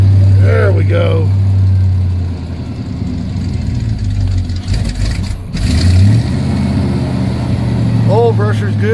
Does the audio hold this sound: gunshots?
no